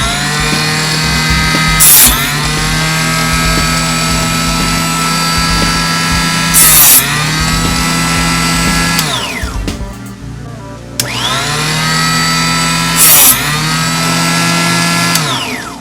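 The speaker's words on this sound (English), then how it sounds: "stop talking there because I know that saw is loud" A loud power saw cuts 3D-printed lobster parts in steady, droning passes, with the blade pitch dipping as it bites in at the start of each cut and one pause midway before cutting resumes; no talking.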